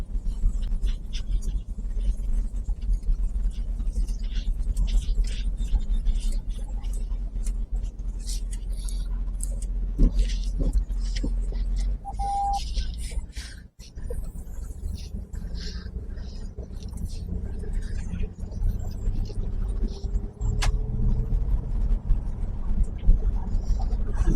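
Inside a moving Range Rover L405 on an Atlanta road, a steady low rumble of road and wind noise fills the cabin, with light clicks and faint shifts in tone throughout.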